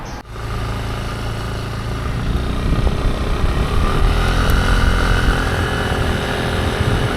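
A scooter engine runs steadily and loudly while riding through Chongqing, China, with a low rumble and a brief bump near the start.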